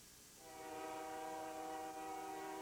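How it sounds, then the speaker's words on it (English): A train rolls steadily past in a TV commercial, its horn sounding as a sustained loud chord from near the start to the end, with no talking. "Just about every day you get stopped by a train."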